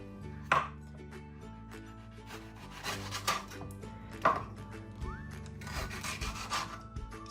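A yellow pepper being chopped on a cutting board for a salad, several close knife strikes with scraping between them, no talking.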